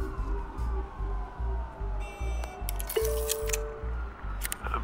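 Police car sirens wail from the Batman game Children of Arkham, a falling tone over steady rhythmic low thumps, with sharper bursts of noise partway through.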